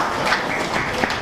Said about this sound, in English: So a round of applause for both two legends of this club.